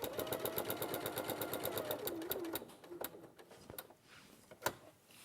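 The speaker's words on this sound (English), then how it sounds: "So now I'm just stitching through the layers." A Simplicity sewing machine stitches through several fabric layers, its needle chattering in a fast, steady rhythm that slows and breaks into a few separate thumps and clicks toward the end.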